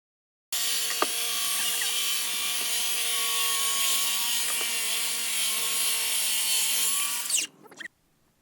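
A power saw cuts a wooden bench board along a clamped straight edge guide, a loud continuous whining cut lasting about seven seconds before the blade spins down and stops.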